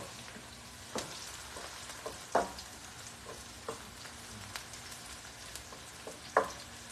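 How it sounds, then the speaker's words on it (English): Food fries in a pan while mussels in white wine are being prepared, giving a soft, low sizzle broken by occasional sharp clicks and scrapes of stirring. "This you not gotta fry too long."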